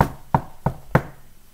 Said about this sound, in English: He knocked on the front door.